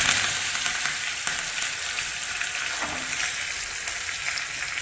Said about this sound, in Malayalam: കടുകും കൂടി ചേർത്ത് കൊടുക്കാം കടുക് പൊട്ടിക്കഴിയാനായിട്ടുണ്ട്